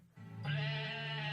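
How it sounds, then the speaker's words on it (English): Goats bleat in a Christmas album commercial, one sustained, wavering bleat rising in loudness and holding steady, fairly close and on its own. "here's an album with goats singing"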